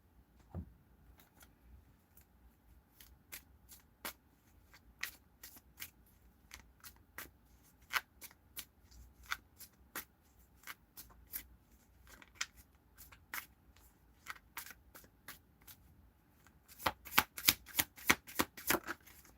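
Tarot cards are shuffled in a run of sharp, irregular riffling snaps, sparse at first and then a dense flurry near the end, with no talking.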